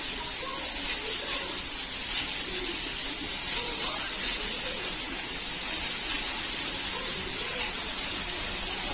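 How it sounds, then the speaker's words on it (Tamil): Carrots frying in hot ghee in a pan for carrot rice kheer, a steady continuous sizzling hiss that holds close and even throughout, with no talking. "இந்த நெய்லேயே நல்லா இது வந்து ஃப்ரை ஆகணும்"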